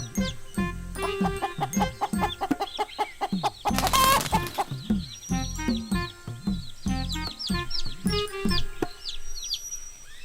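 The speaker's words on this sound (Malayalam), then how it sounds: "ഒരു ചാക്ക് കോഴി" Cartoon chickens cluck in quick, busy bursts throughout a hen-and-fox animated story, with a brief louder flutter or squawk midway and no speech.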